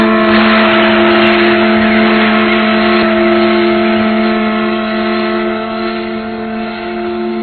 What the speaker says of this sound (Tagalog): Mapapatakbo pa natin ang makinang yan. Sa palagay ko, malakas pa ang motor nito.